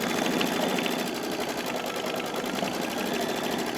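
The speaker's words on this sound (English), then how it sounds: "it's going to stitch around this piece" An embroidery machine stitches an appliqué piece onto a tea towel, a fast, even mechanical whir with a rapid needle rattle running continuously and close by.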